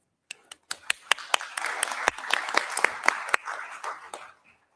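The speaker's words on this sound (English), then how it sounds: "Please join me in a round of applause and thanking them once again for their insights." Applause from a conference audience at a global gathering on AI, security and ethics, starting with a few scattered claps that build into a steady round of clapping with sharp individual claps standing out, then fading away.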